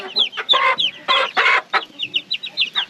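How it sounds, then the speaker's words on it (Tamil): Hens and small chickens on a poultry farm cluck nearby in quick, loud, choppy bursts and short squawks, overlapping one another, with no voices heard. "இங்கே பாருங்க இதுதான் பார்த்தீங்கன்னா சின்ன கோழி"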